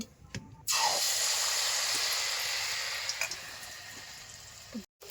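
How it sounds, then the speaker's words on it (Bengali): Malpua batter frying in hot oil, a steady broadband hiss and sizzle that comes in sharply after a brief quiet start and holds loud, fading slightly and cutting out near the end. "তেলটি গরম হয়ে গেলে আমি একটা একটা করে মালপোয়াগুলি ভেজে নেব।"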